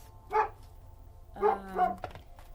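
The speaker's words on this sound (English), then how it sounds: "The dog's going crazy." A dog barks three times in quick succession, with one short bark followed by two closer-spaced ones, fairly near and loud against a quiet background, with no talking.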